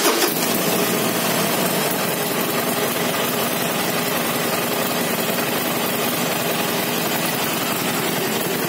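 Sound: Harley-Davidson Iron 1200 motorcycle engine idling

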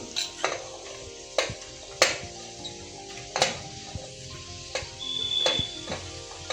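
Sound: onions and vegetables being stirred and fried in a pan

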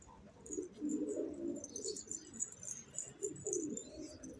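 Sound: pigeons cooing in a loft

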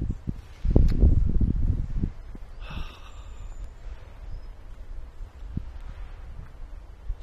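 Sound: wind blowing in woodland

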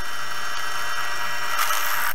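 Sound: drilling a hole

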